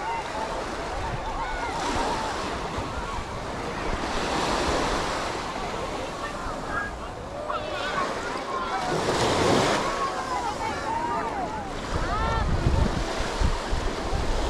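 Sea waves wash onto Patar Beach in Bolinao, Pangasinan, a steady surf roar with gusts of wind buffeting the microphone and one louder swell rolling in near the middle.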